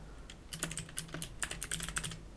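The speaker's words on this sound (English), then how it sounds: "type cd app data / local, click enter, and then type this command" Rapid keystrokes on a computer keyboard while entering a command, a quick irregular run of light clicks at close range with no voices.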